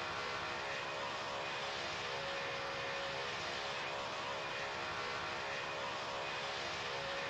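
An aircraft climbing after takeoff toward Perth International drones with a steady, even engine hum and cabin rush throughout, constant and unbroken with no talk.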